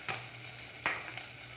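Spices for misal pav sauté in a pan with a soft, steady sizzle and a couple of faint stirring scrapes, quiet and close.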